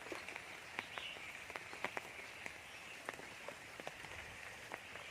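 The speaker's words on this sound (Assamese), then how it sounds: "এয়া আমাৰ পথাৰত পানী, গোটেই ৰাতিটো বৰষুণ।" Rain falls on village fields after a night-long downpour, a quiet, steady hiss with scattered sharp drips and splashes landing close by, heard alone without talk.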